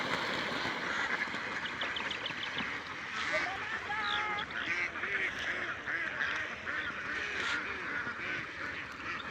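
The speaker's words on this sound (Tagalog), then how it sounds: "Kadaming itik." A large flock of ducks in a field keeps up a dense, steady chorus of quacks and honks close by, and people talk excitedly over the birds.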